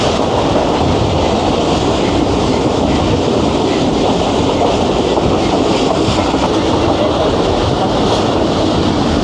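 The Jaffar Express runs along the rails just after the Gorang tunnel and bridge, a loud continuous rumble and roar of wheels on track heard up close, steady from start to finish.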